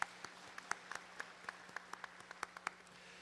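A church congregation at a special early-morning prayer service claps, a sparse, faint run of individual hand claps spread unevenly across a quiet room.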